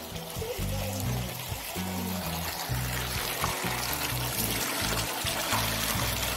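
Naturally emerging hot spring water trickles and pours steadily, close by, over a low pulsing hum.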